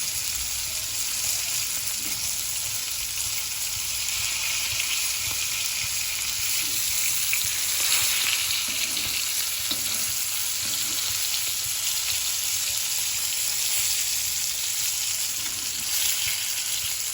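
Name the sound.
bangda mackerel fish frying in pan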